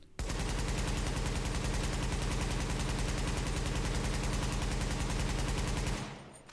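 Sustained rapid automatic weapon fire in a video game plays as a loud, steady stream of shots for about six seconds before it cuts off, with no talking.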